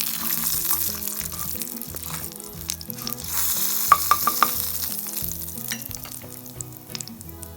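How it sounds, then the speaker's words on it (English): Urad dal fries in about a teaspoon of hot oil for a tempering, giving a continuous crackling sizzle with brief bright pops. Steady background music plays underneath throughout. "Got to wait for the urad dal to brown up just a little bit."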